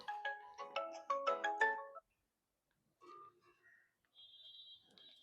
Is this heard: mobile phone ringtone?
yes